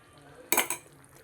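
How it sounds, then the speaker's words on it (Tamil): A couple of quick metallic scrapes of a utensil against a pan, stirring a chicken gravy, over a quiet background. "இப்போ இதை நல்லா கலந்து விட்டு இந்த கிரேவி நல்லா கொதித்து வரட்டும்"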